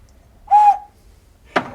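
An old, fragile collected folk-art whistle for children gives one short, clear, bright toot, then a sharp knock or tap follows a moment later.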